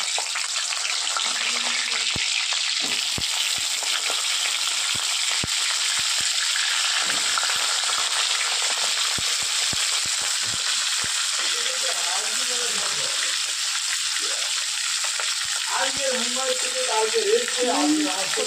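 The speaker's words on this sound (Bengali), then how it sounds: "আমি পটলগুলো আগে ভেজে নেব।" Pointed gourd (potol) pieces fry in hot oil with a loud, continuous hiss and crackle, punctuated by occasional sharp taps of a spatula against the pan.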